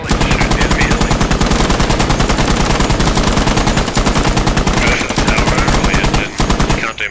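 Rapid automatic gunfire aimed at an enemy helicopter in a squad shooter video game, loud continuous bursts of shots for most of the time, ending in a few scattered rounds.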